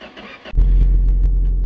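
A used Chevrolet Opala with some worn engine parts cranks briefly and catches, then settles into a loud, steady low idle rumble close by.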